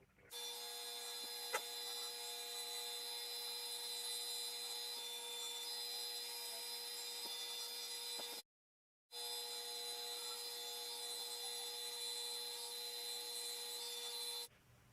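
A turned wooden egg-shaped box spinning on a lathe while being polished with abrasive paste, a steady whining motor hum with rubbing friction that runs continuously, breaks off briefly, then resumes.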